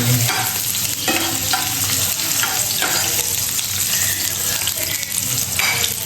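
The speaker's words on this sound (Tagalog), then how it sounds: "Bawang goes in." Garlic sizzles in a pan as it is stirred, a close, steady frying hiss with intermittent scraping of the utensil and some faint background clatter.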